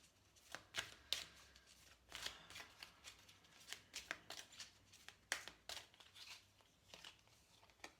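Oracle cards being shuffled by hand, a quiet series of crisp riffling slaps and soft paper flutters in an irregular rhythm, close and alone.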